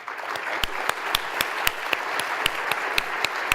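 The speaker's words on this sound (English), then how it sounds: "Big round of applause for Sean King" A conference audience claps for a panelist in a steady mass of applause, with sharp individual claps popping out at a regular beat over a dense close patter, no voices on top.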